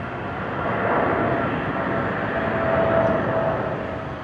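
A French Airbus A400M military transport departing Brisbane airport makes a broad, steady distant roar, with no talking.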